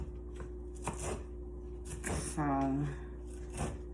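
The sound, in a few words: knife chopping cilantro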